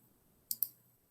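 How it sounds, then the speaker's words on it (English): Two quick computer mouse clicks in close succession, sharp and faint against a quiet room, with nothing else heard. "you're going to click the spinach button"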